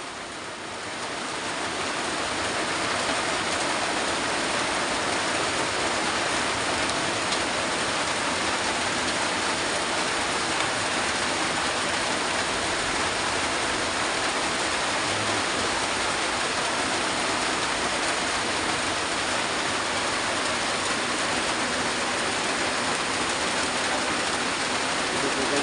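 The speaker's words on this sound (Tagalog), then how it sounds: "Ang lakas ng ulan, no?" Heavy rain pours steadily and loudly, a dense continuous hiss with no breaks for the whole stretch.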